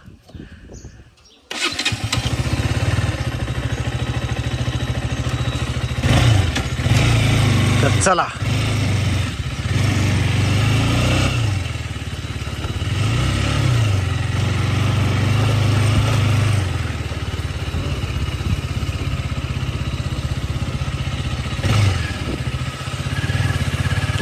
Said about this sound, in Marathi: आपण बाईक स्टार्ट करूया.